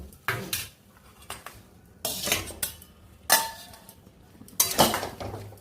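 Chicken pieces for Chicken Manchurian are stirred in a pan with chilli sauce, making four or five loud clanking, scraping strokes of a metal spatula against the pan, separated by short quiet gaps.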